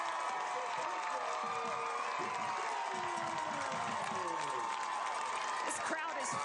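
A high school football crowd at a Bradshaw Mountain vs Prescott game roars continuously after a touchdown, with loud cheering, whoops and applause filling the stands throughout, a commentator's voice partly underneath.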